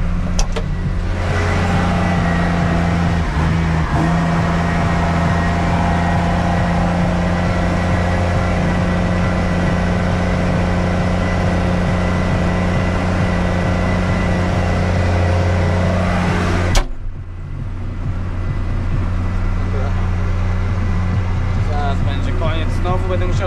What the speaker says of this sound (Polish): Trochę w tym ciągniku głośno może.